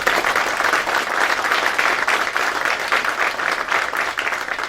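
Sustained applause from an audience at an anniversary celebration, many hands clapping densely and steadily at close range for several seconds with no talk over it.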